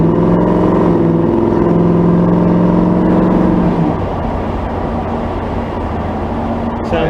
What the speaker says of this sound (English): Sounds like a Camaro.